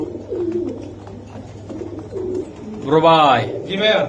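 Pigeons coo softly in low, rolling murmurs, and then two louder wavering calls ring out near the end, with faint talk in the background.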